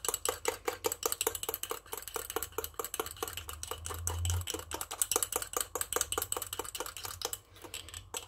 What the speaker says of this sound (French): Donc là, je mélange.